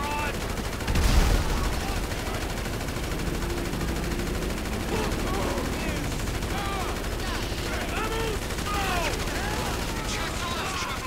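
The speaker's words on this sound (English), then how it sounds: "He's shooting me." Enemy gunfire in the video game GTA V rattles in rapid, dense bursts throughout, with a louder thump near the start and shouted game voices mixed under the shooting.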